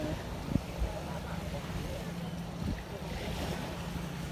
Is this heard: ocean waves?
yes